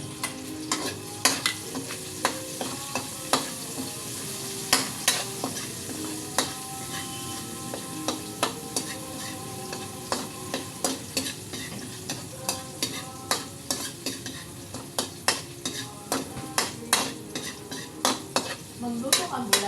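Onions fry in a pan for chop suey, sizzling steadily while a utensil scrapes and clinks against the metal in frequent irregular strokes, close and clear with no talking.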